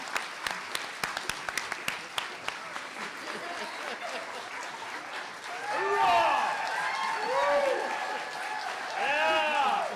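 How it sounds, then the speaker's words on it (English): An audience at a New Hampshire storytelling show breaks into sustained applause for the performers, clapping swelling midway, with a voice speaking over it and scattered cheers. "How about one more round of applause for these amazing storytellers."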